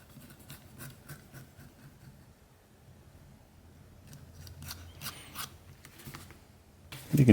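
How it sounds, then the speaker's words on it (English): Fine sandpaper rubbing along the edges of a leather belt wallet, making soft, repeated scratchy strokes close by. A louder rough scrape comes right at the end. "so I'll take a finer sandpaper"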